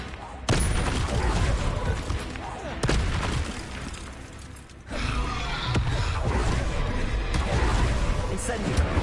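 Confringo blasting spell from the Hogwarts Legacy video game: sharp explosive booms burst loudly at several points over a dense, continuous roar of combat noise, with a voice calling out spells.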